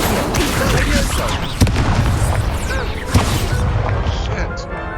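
Spell effects in a Harry Potter video game, dense booming blasts and crashes with a couple of sharp impacts over a rumbling background, loud and continuous, mixed with game sounds and voices.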